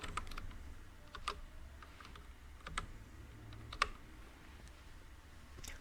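Rapid, uneven keystrokes on a computer keyboard while Java code is typed for a HackerRank exercise, close and fairly quiet, with occasional sharper clicks and no talking.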